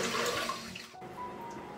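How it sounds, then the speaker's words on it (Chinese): Tap water runs steadily while chicken drumsticks are rinsed in a sink, giving a close rushing splash that shifts in tone partway through the short stretch. "先把这些鸡腿呢给它清洗干净"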